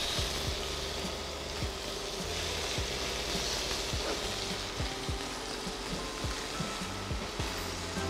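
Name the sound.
beef steak sizzling in a hot pan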